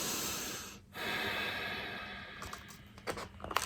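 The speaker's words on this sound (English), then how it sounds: "And give a few bunny breaths here." Quick, repeated sniffing bunny breaths through the nose during a kids' yoga session, close and fairly faint, several short puffs with a brief pause, no talking.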